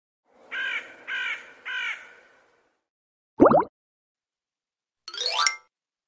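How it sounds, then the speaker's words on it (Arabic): Three harsh crow caws in a steady rhythm, followed by a short plopping pop and a bright rising chime effect. "غراب"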